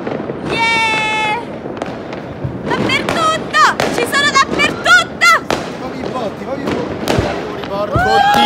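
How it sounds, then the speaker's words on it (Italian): Loud fireworks pop and crackle in dense overlapping bursts at a New Year's celebration in 2017, while excited voices shout, whistle and talk throughout. "Fuochi là, fuochi dappertutto"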